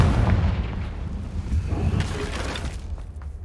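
The Confringo blasting spell in Hogwarts Legacy sets off a heavy, rumbling explosion that booms at the start, then rolls on with lingering crackles and low debris rumble.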